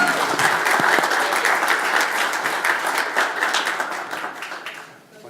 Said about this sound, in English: how about a big round of applause for Chris Gugu.